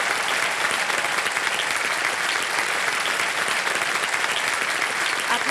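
Loud, continuous applause from a TV quiz show studio audience, dense even clapping throughout with no speech over it.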